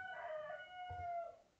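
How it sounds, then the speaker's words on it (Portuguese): A rooster crows once in a long drawn-out call, somewhat faint and distant, against a quiet background. "Canta os galos"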